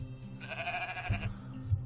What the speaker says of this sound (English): Oh my god, sheep!